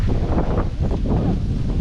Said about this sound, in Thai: ลมพัดดีนะสารากลางจังหวัดนราธิวาสครับ